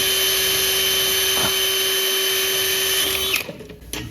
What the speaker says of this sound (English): just drill them with a pilot